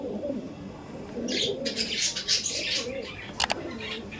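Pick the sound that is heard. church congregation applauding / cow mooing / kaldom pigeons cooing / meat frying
kaldom pigeons cooing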